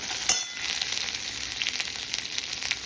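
Cashews frying in a pan: a steady, soft sizzle hisses continuously, with faint clinks, while nobody speaks.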